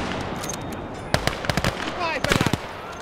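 Gunfire in Gates of Hell, a World War II strategy game played as Finland: a quick burst of sharp shots around the middle, then a tight cluster of rapid cracks near the end, over a low battle rumble.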